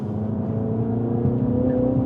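A 2024 Mini John Cooper Works 1to6 Edition with a manual gearbox drives through turns, its engine droning loud and close with a steady rising harmonic tone and slight revving, no voices.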